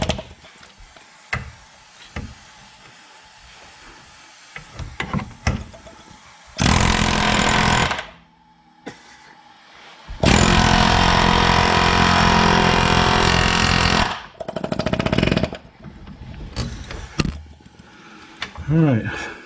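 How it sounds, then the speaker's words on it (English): A pneumatic air hammer fitted with a special adapter drives out the rear wheel bearing of a Jeep Patriot in loud, harsh bursts of rapid hammering, two long runs and shorter ones, with brief speech and workshop noise between. "I'm going to take my air hammer with that special adapter I just showed you"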